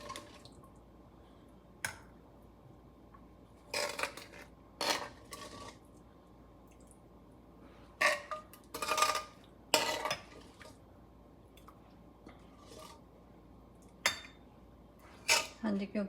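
Garlic pickle is spooned into a container in a kitchen, giving scattered light clinks and wet clatters at irregular intervals. The sounds come close but faint, separated by short quiet gaps.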